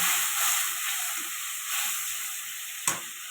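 Spice paste sizzles and fries in a pan for a fish curry with potato and pointed gourd, a bright continuous hiss with soft stirring, and a sharp crackling burst near the end.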